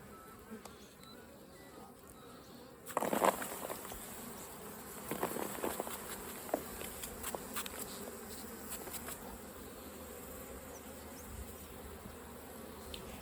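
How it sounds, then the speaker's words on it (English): Honey bees in a broodless pollination hive buzz steadily and close, a dense insect hum that swells briefly as the bees charge in, with light knocks and patter of handling underneath. "All those little bees have charged in there straight away."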